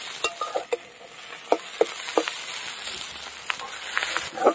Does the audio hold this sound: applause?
no